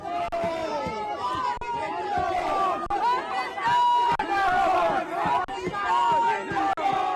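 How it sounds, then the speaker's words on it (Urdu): PTI party workers carrying party and national flags outside Avenfield in London chant slogans, a dense crowd of voices rising and falling in rhythmic shouts over a steady street hubbub. "اس موقع پر کارکنوں نے خوب نعرے بازی کی۔"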